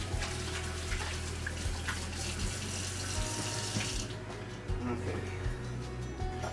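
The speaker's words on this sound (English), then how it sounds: "Let me wash my hands here," A tap runs steadily into a sink while hands are washed under it before cooking steaks on a Blackstone griddle, close, loud and continuous throughout, with someone talking over the water.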